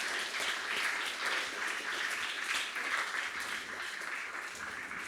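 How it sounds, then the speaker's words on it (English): An audience applauds after a talk at a Fuckup Nights event in Toronto, a steady wash of crowd clapping at moderate distance lasting about five seconds, with no other sounds standing out. "Round of applause."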